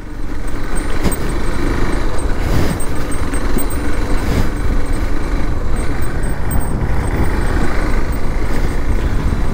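Steady engine drone and rushing wind noise from a Hero Xpulse 200 4V motorcycle while riding along a straight road, continuous and loud with no breaks.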